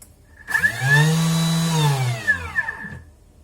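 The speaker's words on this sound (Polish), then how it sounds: "Zamykam naczynie miksujące i włączam na sekundkę na duże obroty." A Thermomix mixer holding sponge cake batter spins up to high speed for a moment, with a rising whine that holds steady for about two seconds and then winds down. It runs alone and sounds close.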